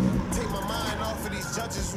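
A BMW cruises along a highway with a steady broadband road and engine rumble inside the cabin, close and continuous while people talk over it.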